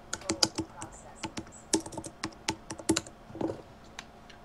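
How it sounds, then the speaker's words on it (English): Quick keystrokes clatter on a computer keyboard in irregular bursts of sharp, close clicks, with a faint voice briefly in the background. "You're typing."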